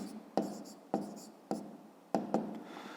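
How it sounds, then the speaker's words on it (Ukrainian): Chalk or pen scratching out an equation on a board or paper during a fifth-grade maths lesson: five short sharp strokes, each tapering off, spaced irregularly. "Отже, записуємо y плюс 16"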